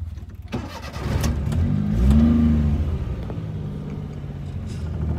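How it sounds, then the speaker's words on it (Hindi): A 2009 Mahindra Scorpio M2Di diesel engine cranks, catches and revs up with a rising roar, then settles into a steady rumbling idle, close by with no talk. "स्टार्टिंग देखिए गाड़ी की"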